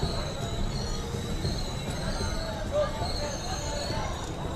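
The Bokaro Express pulls out of Samalkot junction, heard from inside a crowded general coach as a steady rolling rumble with faint wheel squeal and a murmur of passengers in the background.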